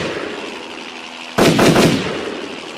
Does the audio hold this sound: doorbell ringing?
no